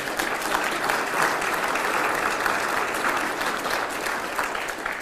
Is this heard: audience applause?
yes